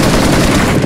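A grenade blast in Battlegrounds Mobile India, a very loud, close burst of dense crackling roar that fills the whole short moment without a break.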